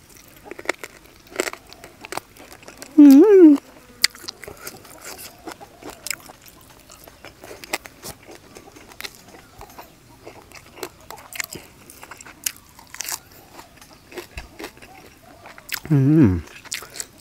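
Crunchy biting and chewing up close on steamed free-range chicken with herbs, a couple of louder crunches separated by long quiet stretches with faint background noise.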